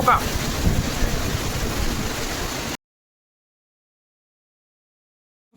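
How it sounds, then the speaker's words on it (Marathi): Heavy monsoon downpour in Jagalpur, Jalkot taluka, Latur, Maharashtra, roars as a dense, steady hiss, loud and close, then cuts off abruptly halfway, leaving silence. "तुम्ही बघू शकता कसला मोठा पाऊस आहे"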